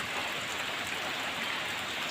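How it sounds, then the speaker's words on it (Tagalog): Steady rain falls during flooding in Davao del Sur, a soft, even hiss of drops on surfaces with no pauses, moderately quiet and unbroken. "At patuloy pa rin po ang ulan."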